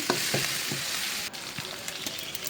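Steady hiss and crackle of panch phoron and garlic frying in hot mustard oil, with a few soft clinks of a utensil against the pan.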